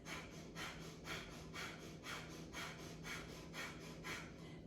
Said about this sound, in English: Kapalabhati as fast or as slow as you can.